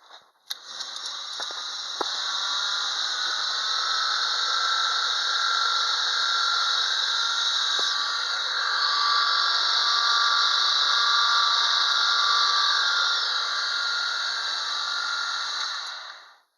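A homemade shaft spins at about 3000 RPM on a balance test rig in a home shop. It gives a steady, loud mechanical whine and hum that holds evenly for the whole stretch, with a few faint clicks near the start.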